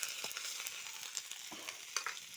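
Ginger paste fries in hot oil with black cumin in a pan, a faint continuous sizzle with a few light stirring scrapes, close up and without voices.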